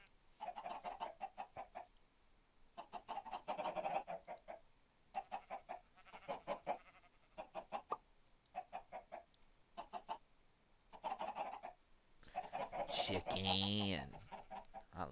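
Minecraft chickens cluck in short repeated bursts throughout, loud and close, with a brief denser flurry near the end; no one speaks over them.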